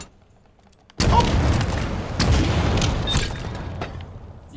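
Gunfire from a weapon in the video game Halo Infinite during multiplayer weapon drills: a sudden loud, dense burst of rapid shots and booms that sustains for several seconds with heavy, roaring texture.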